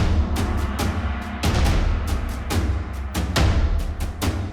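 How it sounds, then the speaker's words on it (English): Big, punchy drums drive a produced song's chorus, with heavy kicks and sharp snare or clap hits landing in a steady rhythm over a full mix, loud and upfront with no voices. "So on this chorus, the drums sound like this."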